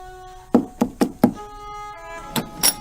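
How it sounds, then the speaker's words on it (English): Knocking on the door of a mansion in an animated Lego film: four sharp, evenly spaced raps close by, then a pause and two lighter knocks under soft musical tones. "Better knock, I suppose."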